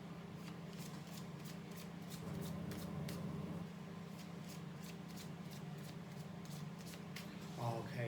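Tarot cards are shuffled close up in a quiet room, giving soft, repeated riffling clicks in an uneven rhythm, with a brief shuffle of handling at the end.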